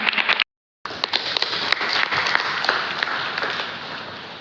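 An audience at an Eid al-Fitr gathering in Dhaka, Bangladesh, applauds in a dense, steady burst of clapping that continues for several seconds after a brief cut in the sound.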